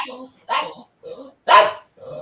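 A dog barks indoors five times in an uneven rhythm, each bark loud and close, with short silent gaps between them.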